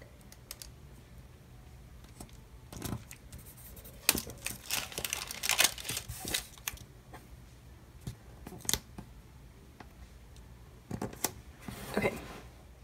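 Quiet, close scissor snips and paper rustling come in short irregular bursts as a paper planner box is trimmed down to size for a Happy Planner layout, with no talking.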